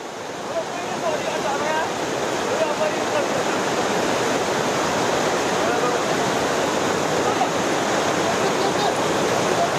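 Mountain stream rushing over stones in Chamoli, Uttarakhand, a dense, steady roar of water heard nearby throughout, loud and unbroken.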